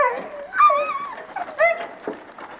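A sled dog whimpers up close in a series of high, wavering whines and yips that rise and fall in several short bursts, with no talk.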